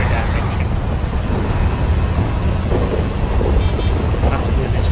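Steady rain with low thunder rumble in a GTA FiveM racing game, a dense continuous wash of downpour filling the scene, with faint tones and someone talking over it.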